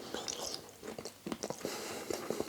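Close-up biting and chewing of a king prawn from a chow mein, with soft, moist crunches and irregular chews at a quiet level.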